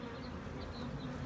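A honeybee swarm clustered in a pine tree gives off a dense, continuous buzzing hum, loud and close, with no voices over it.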